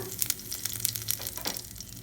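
Mustard seeds spluttering in hot oil before curry leaves go in, a dense crackling sizzle with scattered sharp pops throughout, heard close and alone.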